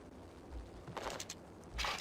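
Gunfire in the video game Max Payne comes as a few quick, faint bursts of shots: one cluster in the middle and another near the end, over a low, quiet background.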